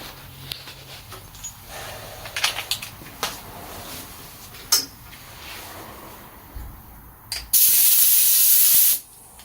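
An aerosol spray can paints the Spitfire engine head of a 1941 Dodge WC army truck. A steady close hiss of about a second and a half follows a scatter of light clinks and handling knocks.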